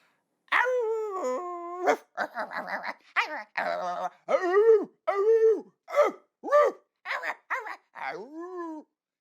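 A storyteller imitates a pack of dogs howling as if singing, with a string of rising and falling vocal howls and yips, close and fairly loud, in short bursts with brief gaps.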